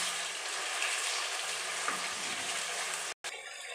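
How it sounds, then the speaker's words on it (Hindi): Chicken pieces frying on full flame for butter chicken, a bright continuous hiss of hot oil that is fairly quiet, with a brief gap near the end. "चिकन को हम 3 से 4 मिनट के लिए फुल फ्लेम पे फ्राई कर लेंगे।"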